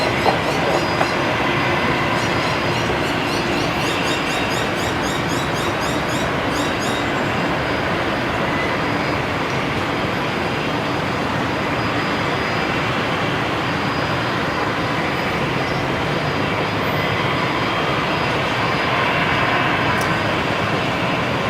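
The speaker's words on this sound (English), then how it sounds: "342, runway 19 left. Clear for takeoff." An airliner takes off from runway 19 left at Brisbane Airport, a loud, broad, sustained roar that holds steady throughout.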